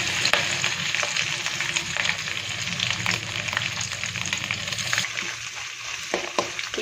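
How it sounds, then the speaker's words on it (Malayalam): Coconut pieces fry in coconut oil in a pan with a dense, continuous sizzle and occasional stirring scrapes and clatters, heard close and steady throughout. "അതിലേക്ക് നമുക്ക് തേങ്ങാക്കൊത്തുകൾ ചേർത്ത് കൊടുക്കാം കേട്ടോ."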